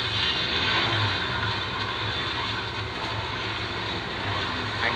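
An electric race car in the Asphalt 9 video game whirs past at speed, a steady, loud synthetic hum and rushing wind with no engine rumble, continuous from start to end and free of talk.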